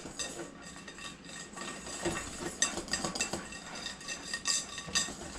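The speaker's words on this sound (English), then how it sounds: "So mix it really, really, really good." Pistachio cake batter stirred in a bowl, a steady soft scraping and mixing with light clinks of utensil against the bowl, moderately close with no talk.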